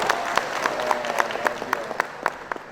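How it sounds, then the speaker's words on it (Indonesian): Scattered applause at a large official gathering of West Java regional leaders, with distinct sharp claps standing out in a loose rhythm over a murmuring crowd and faint background talk, gradually easing off. "tepuknya harus keras, kalau enggak ditangkap"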